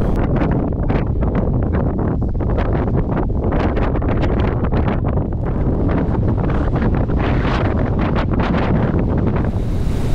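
Strong, steady wind roaring and buffeting the microphone on the exposed hilltop summit of Great Cockup, a loud continuous rush with no let-up.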